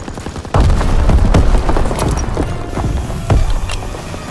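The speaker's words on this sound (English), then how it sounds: "The enemies have destroyed our ammo supply" An ammo supply blowing up in the Call of Duty WWII video game, with a heavy boom near the start and further explosive thuds and crackling gunfire rolling through a loud, busy battle mix.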